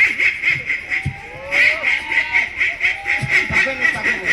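A duckling quacks repeatedly in quick, rhythmic bursts, close and fairly loud, with faint chuckling and background voices mixed in.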